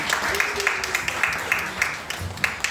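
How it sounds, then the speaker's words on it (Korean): A church congregation claps in thanks during a Sunday worship service, a close, full round of hands with regular rhythmic accents, as if clapping together in time. "우리 하나님께 감사의 박수를 올려드리겠습니다."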